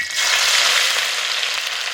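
Ginger-garlic paste and a bay leaf hit hot sesame oil with a bright, steady sizzle that stays close and loud throughout, with no voices over it.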